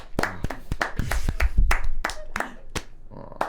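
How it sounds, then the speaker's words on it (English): A group clapping together in a tabletop role-playing session, bursts of sharp overlapping hand claps at an uneven rhythm, close and fairly loud, with some voices mixed in. "All but you are clapping."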